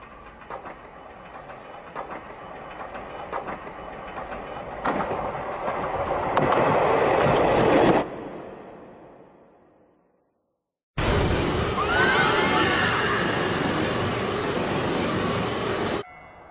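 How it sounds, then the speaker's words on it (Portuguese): A train in an animated film arriving at a station, rumbling and clattering louder as it approaches, then a fade to near silence before a loud rushing roar of passing carriages resumes. "O trem está se aproximando."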